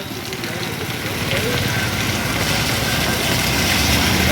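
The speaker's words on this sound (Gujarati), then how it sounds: "ધીમી ધારે આવે છે પણ મસ્ત વરસાદ છે" Steady gentle rain falls on a road in cool weather, giving a continuous, close, even hiss that holds at the same level throughout with no break.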